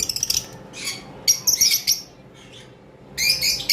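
Caged lovebirds chirp in quick bursts of high, sharp tweets, with brief pauses between clusters, fairly loud and close, with no voices.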